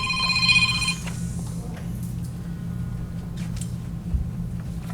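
A mobile phone rings during a board meeting, a bright repeating ringtone for about the first second, then stops, leaving steady low room hum and faint murmurs.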